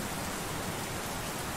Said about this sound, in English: So you kind of get a little bit of a feel of the rain